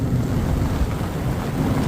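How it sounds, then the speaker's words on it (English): Storm wind from an approaching supercell roars continuously against the microphone from inside a small tent beside a river, a dense, loud, low rumble with no voices. "It's going to be a full-on storm."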